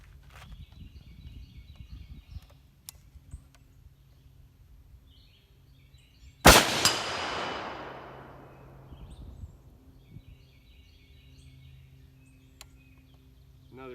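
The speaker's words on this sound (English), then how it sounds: "Put another 10 rounds down range and see how it does." A single sharp, loud shot from a DSA SA58 rifle with a BRS stock, fired outdoors on a range, cracks out midway through near-silence and leaves a long, fading echo.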